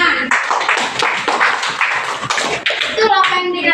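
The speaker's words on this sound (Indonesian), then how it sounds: "Tepuk tangan." Students clap their hands in a classroom, a dense, continuous patter of many close claps with children's voices mixed in.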